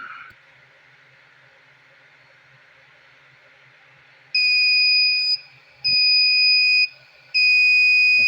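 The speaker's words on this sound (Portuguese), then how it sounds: "Aqui o alarme acontecendo, o LED piscando, o buzzer tocando." After a quiet hiss, an electronic buzzer alarm shrills in three loud, steady bursts separated by short pauses.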